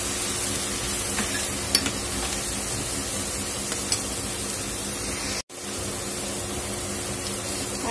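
Rice masala sautéing in a pan with soy sauce and tomato ketchup, a steady close sizzle with stirring scrapes throughout, cut by a brief drop to silence near the end before the frying resumes.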